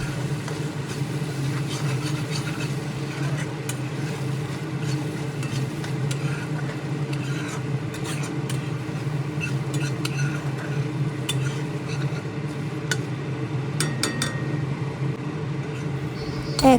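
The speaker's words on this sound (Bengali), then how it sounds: "আরও একটু ভালোভাবে নেড়ে চেড়ে মশলা কষিয়ে নিচ্ছি" Spice paste for a cabbage, potato and soybean curry being stirred and fried in a pan, with a continuous low sizzle and frequent scraping and clinking of a spoon against the metal, steady and close.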